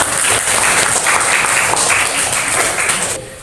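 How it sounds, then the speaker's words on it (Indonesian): Classroom students at a senior high school applaud a classmate with steady, dense clapping that holds at an even level for about three seconds before trailing off. "beri tepuk tangan untuk Mas Iqbal"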